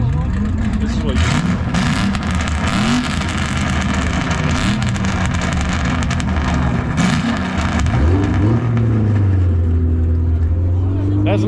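Ford Mustang engine revving at a large car meet, loud and close with rising and falling pitch sweeps, mixed with crowd chatter and other engine noise around it, ending in a sustained high rev.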